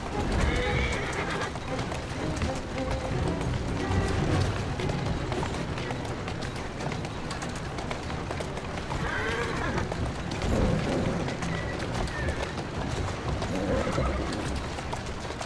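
In the video game Assassin's Creed Syndicate, a horse whinnies and hooves clip-clop at a run over a busy, constant background with voices in it.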